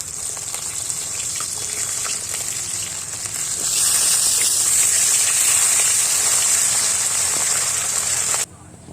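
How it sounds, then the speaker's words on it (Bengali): Pieces of rohu fish rubbed with salt and turmeric fry in a wok of hot oil, giving a steady, loud, hissing sizzle that swells louder partway through and cuts off abruptly near the end. "কড়াই তেল গরম করে তার মধ্যে নুন হলে দিয়ে মাখানো রুই মাছগুলো ছেড়ে উল্টো পাল্টে ভালো করে ভেজে নিই"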